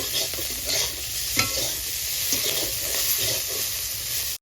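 Fish frying in oil in a pan, a steady close sizzle and crackle that runs throughout with a few soft scrapes of stirring and no talk.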